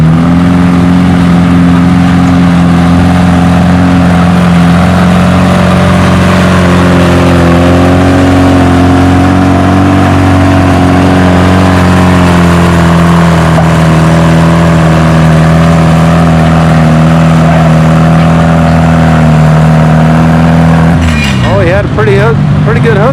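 A tractor engine roars loud and sustained under heavy load during a tractor pull, its droning tone shifting slightly as the run goes on, with an announcer talking over it.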